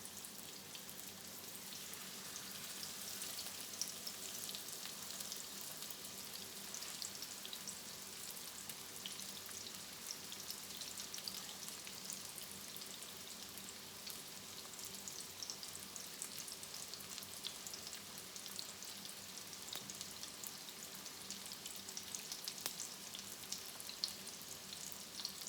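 Breaded chicken for chicken parmesan fries in a pan with a steady, even sizzle and crackle that holds at a moderate level throughout, close up, with no voices.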